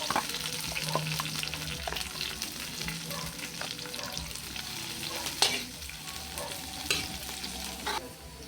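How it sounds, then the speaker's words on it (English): Onion and garlic fry in hot oil in a pot, giving a soft continuous sizzle with occasional stirring clinks and scrapes, close and without talk. "So we already have the oil, so now I'm going to throw in the onion and garlic."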